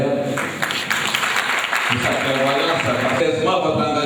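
Applause for a mayor at a public ceremony during a royal festival in Tiassalé, a loud clatter of clapping from a crowd mixed with voices and background chatter.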